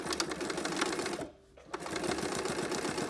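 A sewing machine stitches a seam on an apron of printed fabric, running steadily with rapid, dense needle clatter, pausing briefly midway, then resuming just as loud and close.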